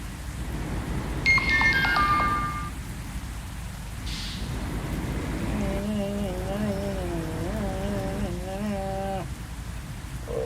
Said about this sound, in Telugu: మళ్ళీ వర్షం వస్తుంది